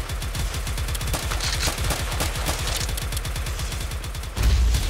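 Rapid video-game pistol fire from the Harbor Havoc game rattles in dense, fast bursts at close range, ending in a heavier low thump.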